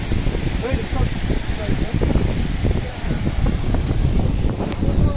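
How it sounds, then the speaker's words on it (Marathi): Strong wind buffets the microphone outdoors at a song-shooting location where rain arrived, a continuous loud rumbling roar with rustling bursts throughout. "वारा पण खूप आहे आता आवाज येत असेल नसेल का माहीत नाही"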